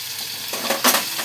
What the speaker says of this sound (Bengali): এবারে আলুটাকে আমি একটু লাল লাল করে ভেজে নেব